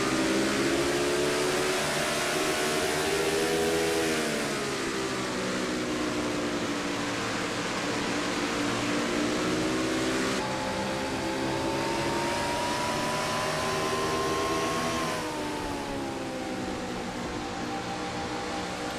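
A NASCAR-style stock car engine from a racing video game in the Castrol GTX Cup series, First Union 400 race, drones steadily and loudly, its pitch sliding up and down as the car moves around the track.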